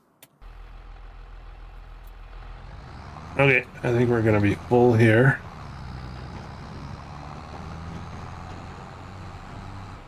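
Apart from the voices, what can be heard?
truck in video game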